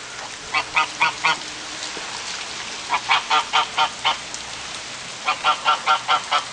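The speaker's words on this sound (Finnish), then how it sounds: "Ihan elävä hanhi." Geese honk in three quick bursts of rapid calls, separated by short pauses, over a steady background patter like light rain.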